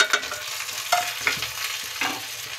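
Okra with turmeric, crushed chilli, salt, tomatoes and green chillies being stirred in a frying pan: repeated scraping strokes over a steady sizzle, close up, no voices.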